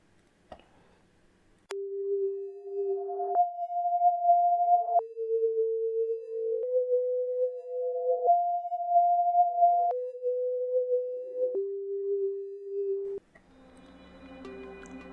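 Tone-based alien vocals from recorded dialogue, a sequence of pure electronic beeps that step between a few pitches in even, sustained notes, clean and alone, then cut off into a brief burst of noise.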